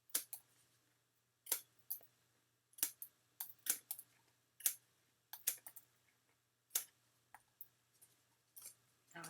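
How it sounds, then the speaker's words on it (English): Small non-stick scissors trim excess paper from the edge of a handmade card, with a series of crisp, close snips spaced irregularly against a quiet background. "take my little non-stick scissors, and I am trimming off all the excess that hangs over the top"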